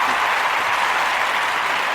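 Steady audience applause fills the whole stretch, a dense continuous wash of clapping at constant loudness, close and without breaks.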